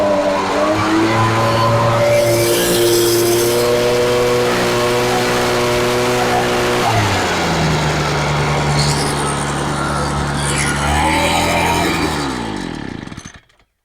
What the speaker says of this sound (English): So the backpack blower took 5 times